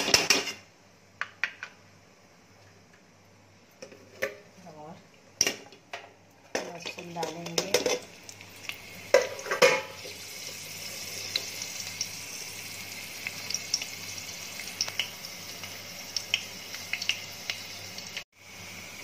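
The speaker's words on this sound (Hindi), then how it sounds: "लहसुन अच्छे से फ्राई हो रहे हैं।" Garlic fries in ghee in a kadhai with a steady sizzle and bright crackle, broken by clattering metal as a spoon stirs and scrapes the pan, and talk comes and goes over it.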